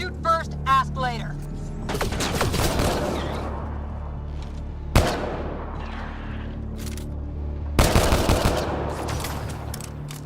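Gunfire in the sci-fi shooter Mass Effect Andromeda, with a short voice at the start, then loud crackling bursts of shots separated by sharp single cracks.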